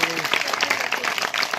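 Children at a birthday celebration clap together in a dense patter of applause, with voices mixed in throughout.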